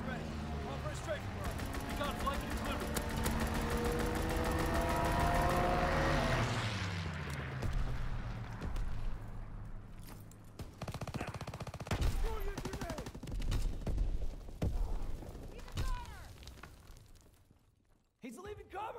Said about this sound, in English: Fighter aircraft ready. Call for a strafe.